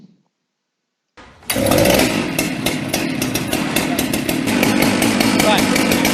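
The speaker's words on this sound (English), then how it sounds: "turn the saw on, press the compression switch, and give it a pull" A Warrior chainsaw is pulled over, catches after a second of silence, then runs loudly and steadily close by, its engine revving unevenly.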